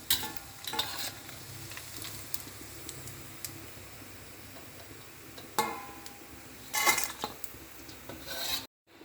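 Chicken pieces frying crisply in hot oil, a steady soft sizzle running throughout with a few louder crackling bursts and stirring sounds, no voices.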